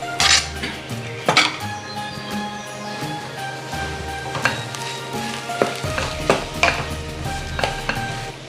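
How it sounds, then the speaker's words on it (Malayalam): Mashed potato is stirred into a frying spice mix in a pan, giving a soft sizzle beneath repeated scraping and clinking of a utensil against the pan, in irregular bursts close by. "ഈ സമയത്ത് നമുക്ക് മാഷ് ചെയ്ത് വെച്ചിരിക്കുന്ന ഉരുളക്കിഴങ്ങ് ഇതിലേക്ക് ചേർത്ത് കൊടുക്കാം."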